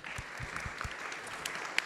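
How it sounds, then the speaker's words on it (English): Audience applauding to welcome a speaker onto the stage at a European research and innovation event, a steady spread of clapping at moderate level with a few sharper individual claps, no voices. "Ladies and gentlemen, a big applause,"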